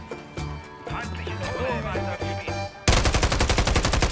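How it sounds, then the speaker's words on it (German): Rapid gunfire from Call of Duty Modern Warfare 3 (2023), a dense burst of repeated shots erupting loudly in the latter part after a stretch of music and game sound. "Mitten in der Ballerei."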